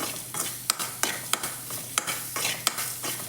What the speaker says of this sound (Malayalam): ഇനി ഇതിലേക്ക് നമുക്ക് ചോറ് മിക്സ് ചെയ്യാം